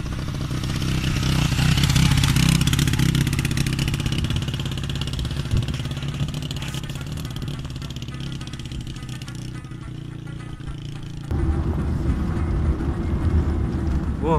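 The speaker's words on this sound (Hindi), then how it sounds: "वो हमारे पीछे बाइकर्स आ रहे हैं" Off-road motorcycles ridden by bikers climbing a steep uphill track in Deosai National Park, northern Pakistan, with a rough, continuous engine drone and clatter, loud and close, shifting in pitch and ending with a sharper revving burst.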